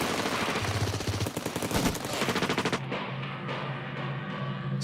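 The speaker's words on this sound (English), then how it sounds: "As they reach midstream, the Bolivian soldiers open fire." Gunfire as Bolivian soldiers open fire on guerrillas crossing a river midstream, rapid bursts of automatic weapons fire in quick succession, sharp and dense, then sparser scattered shots trailing off at a distance.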